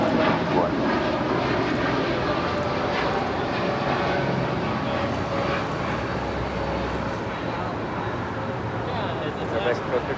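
An Aeromexico flight 647 heavy Boeing Dreamliner departs Los Angeles International Airport for Mexico City, its jet engines a loud, steady roar filling the whole stretch, with no voices over it.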